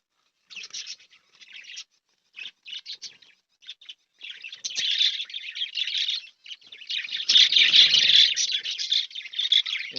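Pet budgerigars in a cage, some sitting on eggs, chirp in short scattered bursts that swell into dense, continuous twittering chatter close by.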